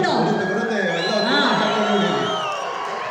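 Audience at a Kannada film song launch event for Krishnam Pranaya Sakhi roars with sustained cheering, whoops and crowd noise, loud and continuous for the whole stretch.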